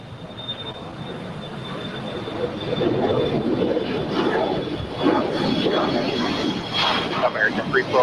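Boeing 777-300ER airliner landing on runway 25 left at LAX, a steady broadband engine roar and rush that swells midway and stays fairly distant, with a faint high whine above it.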